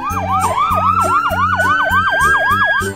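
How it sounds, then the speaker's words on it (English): A cartoon ambulance siren wails in a loud, continuous rising and falling pattern over a rhythmic engine-like pulse, close and steady, with no voices. "Look, there comes an ambulance."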